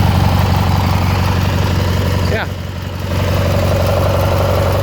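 A Dixon ZTR Ram 44 hydrostatic zero-turn mower engine runs close by at a steady idle, with a short dip in level midway before it settles back to an even drone; a voice briefly speaks once.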